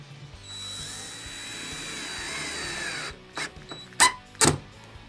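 A power drill drives regular drywall screws into soundproofing panels, letting out a steady whine that fades out after about three seconds, followed by several sharp knocks and clatters up close.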